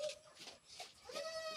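A mother goat that has just given birth to twins bleats, several soft, wavering calls in quick succession, fairly close and quiet with no talk.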